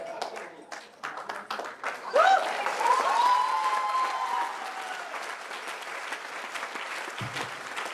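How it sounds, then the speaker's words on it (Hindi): An indoor audience breaks into loud, sustained clapping that lasts several seconds, with a voice speaking over the applause. "जोरदार तालियां।"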